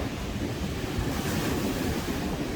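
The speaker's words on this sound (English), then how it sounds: "the rolling waves" Waves of the Irish Sea rolling in at Blackpool with the tide, a steady close wash of surf with wind buffeting the microphone throughout.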